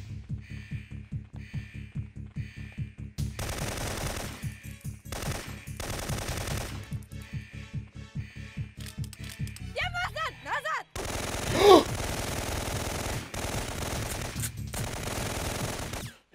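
Rapid automatic gunfire from prisoners in the video game Syphon Filter 2, sustained bursts of loud shots running almost without break, with game music and effects underneath and a louder burst near the end.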